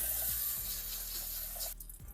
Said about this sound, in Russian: Хорошенько промываем его проточной водой.